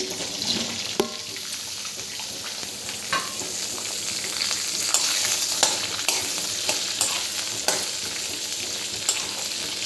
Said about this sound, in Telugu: మష్రూమ్స్ జీడిపప్పు ఇలా వేగితే సరిపోతుంది